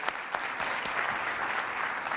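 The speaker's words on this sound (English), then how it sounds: "before we get started, one more round of applause." Brief round of audience applause at a kitchen and bath industry panel at KBIS 2020, many hands clapping steadily and evenly for a couple of seconds.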